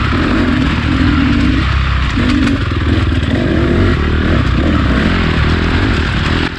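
A Honda CRF four-stroke motocross bike rides a lap, its engine a loud continuous close drone that swells and eases through throttle changes, with clattering and chatter from the track underneath.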